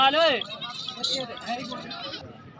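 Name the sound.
goat bleating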